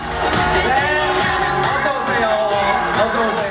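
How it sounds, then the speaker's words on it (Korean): A loud crowd of male fans cheering and shouting continuously as the girl group TWICE appears on stage at their film premiere, with scattered whoops and yells blending into a steady roar of excitement. "여기저기서 남성 팬들의 함성이 터집니다"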